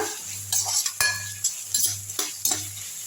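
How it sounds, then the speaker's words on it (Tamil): A large onion sautéing in a pan with a bright sizzle, broken by repeated spatula scrapes and metallic clinks against the pan at an uneven rhythm, close and fairly loud, with a low hum beneath. "பெரிய வெங்காயம் இது லைட்டாக வதக்கி விட்டுடலாம் ஃப்ளேம் ஐ பண்ணிவிட்டு வதக்கி விட்டுருங்க"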